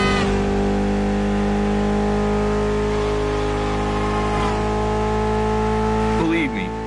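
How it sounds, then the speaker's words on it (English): A Mitsubishi inline four-cylinder car engine of about 280 horsepower in The Crew Motorfest racing game holds a loud, steady droning tone with a sharp rev change near the end. "Mitsubishi gave us a nice inline four-cylinder with already 280 horsepower."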